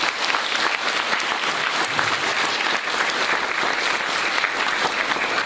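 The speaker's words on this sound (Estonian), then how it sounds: "Teeme tugeva aplausi." Audience applause fills a school graduation ceremony hall, dense and steady clapping from a large crowd throughout, loud and close with no break.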